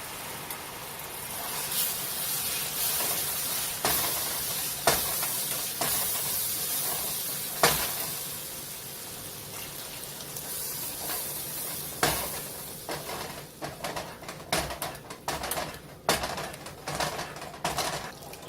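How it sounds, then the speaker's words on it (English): Beef broth poured into thickening gravy with onion, a steady soft sizzle and hiss from the pan with intermittent stirring scrapes and clinks, fairly quiet and continuous. "you're going to slowly add in your beef broth"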